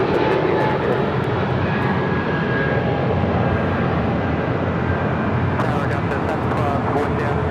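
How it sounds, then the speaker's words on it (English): United airliner departing LAX for Newark, a loud, continuous jet-engine roar throughout with a faint radio voice mixed in beneath. "That was United 2715 taking off to Newark"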